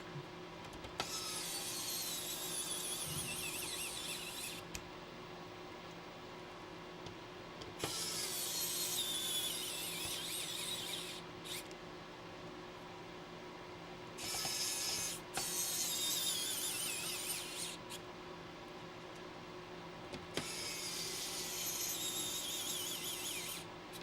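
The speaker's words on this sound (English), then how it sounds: "So now, just put these screws back." Screws being driven back into a PlayStation 2 console casing: bursts of high, scratchy whirring from a small driver, each lasting a few seconds with quiet gaps between, close and fairly soft.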